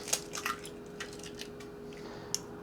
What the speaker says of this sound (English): But let's get these 4 eggs into the bowl.